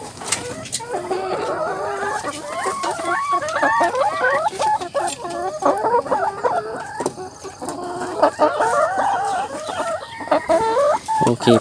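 Laying hens cluck busily and continuously, close by and fairly loud, as they peck at slimy cultivated mushrooms, with occasional louder squawks from the flock.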